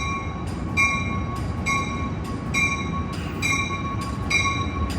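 Amtrak San Joaquin train 714 departs Oakland Jack London Square Station with a steady rumble of rolling cars, while a tonal bell or horn pattern repeats at regular intervals over it.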